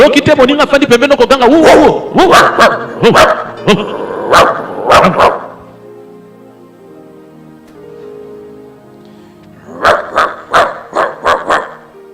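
A preacher imitates a dog barking during a church service, his voice making a rapid run of woofing barks, then a pause with faint talk, then another quick series of barks.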